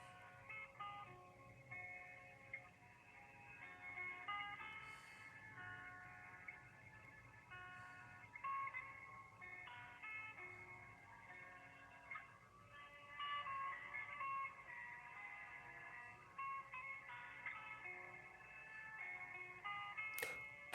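Tinny phone hold music plays through a call while waiting for an answer, a faint looping melody heard alone, with occasional small clicks.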